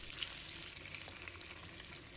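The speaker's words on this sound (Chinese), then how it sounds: "把它煎一下，尽量把鸡皮煎一下。" Chicken pieces, skin side down, fry in a pan with ginger and shallots, giving a steady close sizzle and crackle throughout with no talking.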